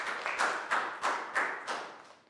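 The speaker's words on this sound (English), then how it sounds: "Big round of applause for Chu" A Year 3 science class gives a pupil a brief round of applause: a handful of rhythmic group claps, about six evenly spaced bursts that fade slightly toward the end, fairly soft and close.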